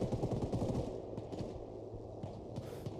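Shots from the game Superstrike come in a rapid burst of sharp, muffled cracks, then fade to scattered, fainter pops at a distance.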